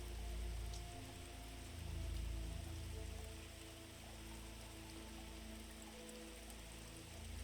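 Soft, steady rain patters on a surface, a gentle continuous hiss of drops with a faint low hum beneath, no voices.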